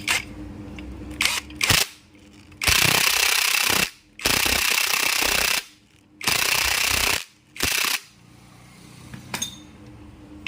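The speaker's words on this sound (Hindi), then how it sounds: "ये क्रैंक बैलेंसर का नट हमने अभी टाइट करना है। ठीक है फ्रेंड्स, ये 17 नंबर का नट है।" A 17 mm crank balancer nut on a TVS Apache RTR 200 4V engine being tightened with a power tool, several loud, sustained whirring bursts separated by pauses, close and dominant.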